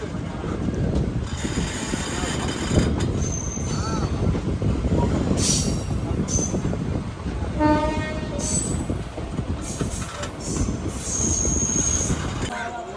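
The Nabadwip Dham Express, train 13432, pulls into Azimganj Junction with loud, constant rumble and rattle of carriages, high wheel squeals, and horn blasts sounding through the noise.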